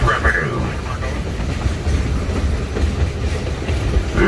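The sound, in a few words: Georgetown Loop tourist railroad train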